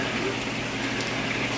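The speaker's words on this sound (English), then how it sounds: "So our water's boiling." Water boils at a steady roll in a cooking pot before pig ears go in, giving a constant, fairly loud bubbling rush with no breaks.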